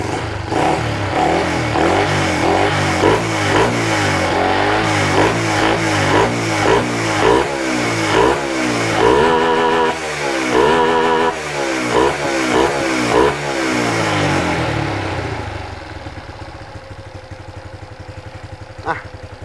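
A car engine with its original ECU is revved in repeated short bursts to bring it up to temperature, loud and close with rising and falling throttle, then settling to a quieter idle near the end.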